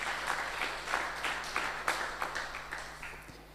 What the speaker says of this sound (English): So we clap for them.